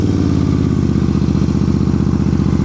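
A motorcycle ridden at slow speed during an advanced riding practice session in North Carolina: a loud, steady, close engine putter with even rapid pulsing throughout, no speech.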